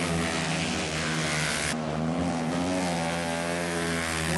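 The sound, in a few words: vintage racing motorcycle passing on half-mile track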